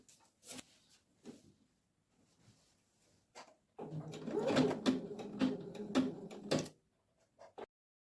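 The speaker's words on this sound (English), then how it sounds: "So let's go to the sewing machine now." A sewing machine stitches seams on a gown in one continuous run of about three seconds, preceded and followed by scattered light clicks and fabric handling in an otherwise quiet room.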